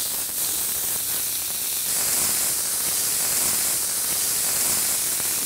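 Beef searing in a hot pan, a loud continuous hiss of sizzling fat that holds steady and close with no talk over it.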